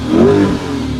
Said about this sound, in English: Sorry, we're taking a commercial break for them to rev this shit